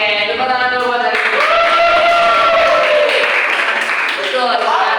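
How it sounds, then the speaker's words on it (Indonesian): Madrasa classroom students clap together for a classmate during an Islamic jurisprudence lesson, a few seconds of close applause mixed with voices and chatter from the room. "tepuk tangan dulu buat Arifin."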